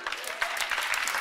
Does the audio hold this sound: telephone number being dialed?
no